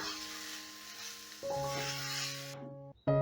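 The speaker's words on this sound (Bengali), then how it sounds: "এবারে পুরটাকে আমি শুকনো শুকনো করে ভেজে নেব" Stuffing dry-frying in a pan for a vegetarian mock hilsa curry gives a steady close sizzle, then a brief louder burst of sizzling with tonal hum before it cuts off near the end.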